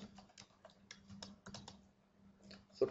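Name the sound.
typing on a computer keyboard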